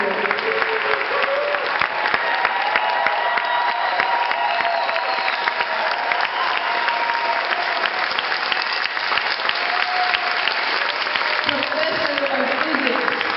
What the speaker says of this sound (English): I want you to give a round of applause to Dr. Stephen Jones.